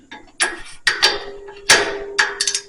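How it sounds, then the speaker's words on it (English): A torque wrench set to 15 foot-pounds tightens grade 8 head bolts on a Cub Cadet garden tractor engine, giving a series of close, sharp metallic clicks and ratchet bursts spaced irregularly, with no talk. "Set our torque wrench to 15 foot-pounds for these."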